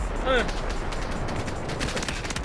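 Rapid gunfire in the shooter game Delta Force, a quick burst of crackling shots followed by scattered sharper cracks, mixed with game ambience.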